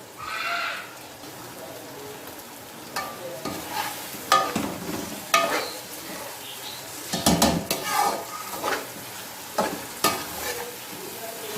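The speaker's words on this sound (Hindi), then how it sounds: "2-3 मिनट मैंने फ्राई करनी है, फिर हमारी सब्ज़ी रेडी है।" Masala okra (bhindi) frying in a pan, a soft steady sizzle with irregular scraping and knocking strokes as a spoon stirs it, close by, with a brief faint voice-like sound near the start.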